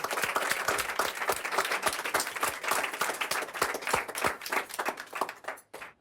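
A small group of diners at a restaurant clap after a dessert is presented, producing distinct, close, slightly uneven claps in a steady patter that stops abruptly near the end.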